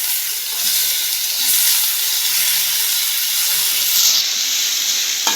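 Tomatoes hit a hot pan of garlic and ginger, giving a steady, fairly loud sizzling hiss with a burst of steam, continuous throughout without talk.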